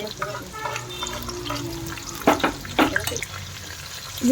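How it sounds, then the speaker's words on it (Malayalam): Green chilies and curry leaves fry in oil for a mixed pickle, a soft sizzle under a few sharp stirring scrapes and clinks, close by. "ഇതെല്ലാം നന്നായിട്ടൊന്ന് മൂപ്പിച്ചെടുക്കണം."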